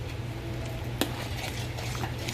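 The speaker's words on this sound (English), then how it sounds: "and mix it nicely" Gongura (roselle leaf) dal being stirred in a pot after salt and water are added: a steady, soft hissing bubble with one sharp utensil clink partway through, close by and with no talk.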